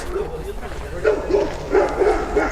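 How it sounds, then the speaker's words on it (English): Several dogs bark and yap in a series of sharp, repeated calls at a middle distance, heard under a faint layer of voices and outdoor noise near an old logging site. "This sounds like really mean dogs."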